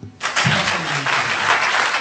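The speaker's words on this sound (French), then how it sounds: "Merci de l'applaudir. Et vous faites bien parce que vous n'avez pas fini d'applaudir" An audience at a Beninese university quiz tournament bursts into applause, a dense burst of clapping that starts abruptly and holds steady and loud throughout.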